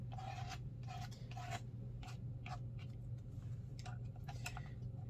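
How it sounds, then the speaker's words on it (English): A brush scrapes watercolor paint on paper in a series of short, quiet, raspy strokes with an uneven rhythm, heard close up over a low background hum. "You could also add variety in this with scraping"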